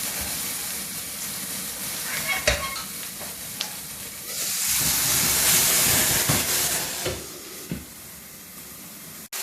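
Clams steam open in a hot pan while a Catalan monkfish-and-clam stew is cooked, with loud continuous hissing and sizzling swelling in the middle, sharp clinks and stirring knocks around it, and no talking.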